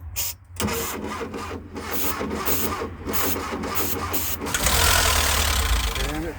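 A 1984 Volkswagen Vanagon Wolfsburg Edition engine cranks with a rapid, rhythmic starter chatter for several seconds, then catches and fires into a louder, rougher running roar, close by.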